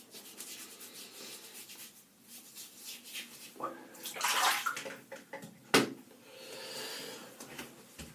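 Shaving soap is rubbed into a wet lather, close up, as soft wet swishing and rubbing strokes with a few louder splashy scrubs and a sharp knock near the end, with no talking over it.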